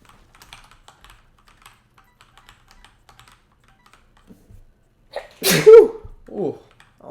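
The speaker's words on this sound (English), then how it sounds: "that was a good sneeze" One loud, sharp sneeze bursts out near the microphone, followed by a brief vocal trailing sound, after several seconds of faint scattered keyboard typing during a live stream.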